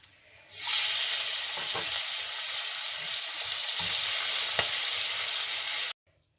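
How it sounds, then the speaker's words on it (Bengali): Cumin seeds and a bay leaf hit hot oil for a tempering, setting off a sudden loud, close, even sizzle that holds steady for about five seconds before cutting off abruptly. "আমি এর মধ্যে যে জিরা আর তেজপাতা ফোড়ন দিয়েছি"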